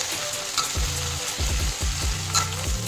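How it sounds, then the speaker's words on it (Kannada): Cut Mattu Gulla eggplant, an Udupi variety, sizzles steadily in a pan with a basic tempering, while a spatula scrapes and stirs it in several short strokes close by. "ಒಂದು ಬಾಣಲಿಗೆ ಬೇಸಿಕ್ ಒಗ್ಗರಣೆ ಮಾಡಿ ಅದಕ್ಕೆ ಕಟ್ ಮಾಡಿದ ಬದನೆಕಾಯನ್ನು ಹಾಕ್ಕೊಳ್ಳಿ."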